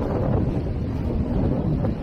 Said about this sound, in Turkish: Dimdik dağ var ya Akbük'ün üstünde. İşte onun yüzünden burada çok kıranlar olur. Kıran rüzgarı lütfen araştırın.